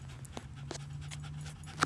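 A dog pants close by in a home setting: quick, soft breaths repeat in a steady rhythm under a constant low hum, with a sharper sound at the very end.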